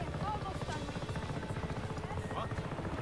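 Helicopter in the Just Cause video game, a steady, loud rotor drone and engine buzz that continues throughout, with faint voices mixed in.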